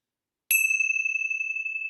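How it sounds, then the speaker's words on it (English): A single bell struck once after a short silence, its clear metallic tone ringing on and slowly sustaining, close and fairly loud, marking the close of a gathering. "let's just close our time together with the ringing of the bells."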